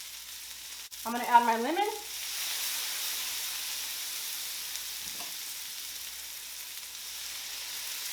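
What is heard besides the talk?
butter and garlic sizzling in a pan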